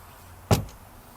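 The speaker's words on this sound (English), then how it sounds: "The door locks into place when in the open position with a magnet." A boat's porta potty door swings open and latches into place with a magnet, one sharp close clack followed by a brief faint rattle in a quiet setting.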